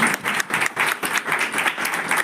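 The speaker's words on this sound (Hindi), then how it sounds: "ताली तो बजाई नहीं आपने" An audience at a Brahma Kumaris Shivratri programme claps in a quick, uneven burst, the applause close and fairly loud, pulsing in waves for a couple of seconds.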